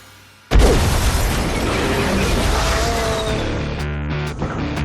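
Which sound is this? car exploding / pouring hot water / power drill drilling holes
car exploding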